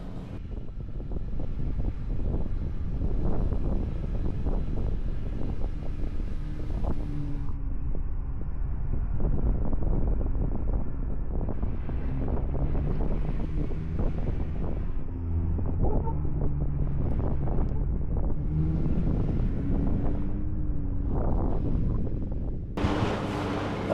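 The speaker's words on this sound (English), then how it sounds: "Super windy up here." Strong wind roars and buffets the microphone continuously on the Poison Spider off-road trail in Moab, Utah, a loud rumbling gust noise with faint shifting tones underneath, no voices.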